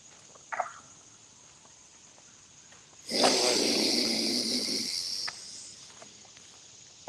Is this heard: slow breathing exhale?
yes